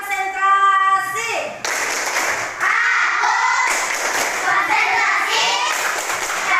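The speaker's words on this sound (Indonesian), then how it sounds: "Coba tepuk konsentrasi." Schoolchildren in an Islamic primary school (madrasah ibtidaiyah) classroom perform a rhythmic concentration clap, a chant of young voices following a sung cue, loud and close, with clapping mixed into the group chant.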